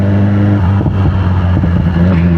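A BMW S1000RR motorcycle with a full aftermarket exhaust system idles loudly close by, a deep steady engine drone with a brief throttle blip and fluttering pulses in the middle.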